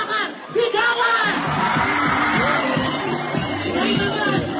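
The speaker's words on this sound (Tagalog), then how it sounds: "Sa gitna, palakpakan, sigawan!" A large live audience at a variety show's Sydney event roars with shouts, whoops and cheers, loud and sustained, with some clapping blended into the dense crowd noise.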